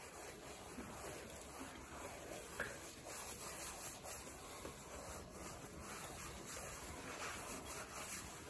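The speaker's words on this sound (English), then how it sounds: "the mink oil is actually melting as I rub the rag in it" A rag rubbing mink oil into a leather seat in a Porsche 911 Carrera 3.0, giving a continuous soft, even friction hiss, close and steady throughout with no distinct strokes; no talking.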